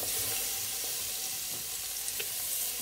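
Onions fry in oil in a pot for spaghetti bolognese, giving a continuous hiss with faint crackles and occasional light spatters, steady and close with no speech.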